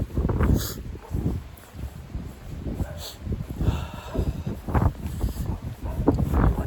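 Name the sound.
strong wind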